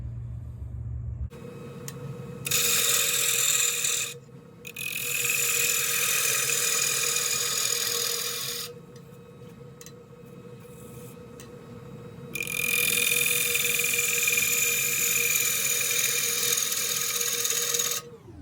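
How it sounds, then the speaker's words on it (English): A gouge cuts a Manila tamarind wood bowl spinning on a lathe. The motor hums steadily while bursts of loud, rough scraping come in three long passes separated by quieter stretches. "Switch back and forth between gouges to make sure I keep this nice and smooth down here."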